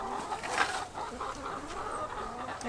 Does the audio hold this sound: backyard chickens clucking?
yes